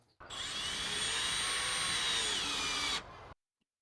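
A power drill whirs steadily while driving a screw into pallet wood for a backyard deck, one loud continuous burst close to the mic, about three seconds long, ending abruptly.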